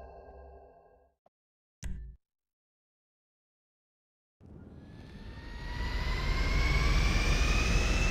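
A plane's engine in Grand Theft Auto V spools up after a brief silence, a broad roar building steadily louder with a rising whine over about four seconds, preceded by a short mechanical clunk and earlier engine hum.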